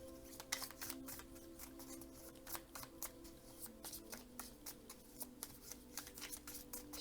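Tarot cards are shuffled by hand in repeated quick riffles and soft flicks, a steady rhythmic rustling that is quiet and close, with no talking.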